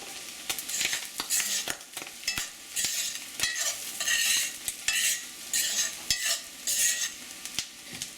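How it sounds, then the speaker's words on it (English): Corn kernels frying in a hot home-kitchen pan, stirred with a utensil: a steady bright sizzle punctuated by repeated sharp scrapes and clicks against the pan, close and fairly loud, with no talking. "I'm just stirring it to keep it from making a total mess in my kitchen."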